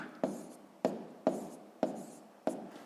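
Numbers are written by hand on paper, five separate pen strokes that each start with a sharp scratch and then trail off, spaced roughly half a second apart, close and quiet, with no talking.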